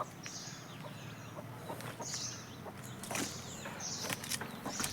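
Chickens on a farm clucking as a mother hen pecks and scratches for food, with repeated short high calls, soft fluttering and scratching rustles, fairly faint and without speech.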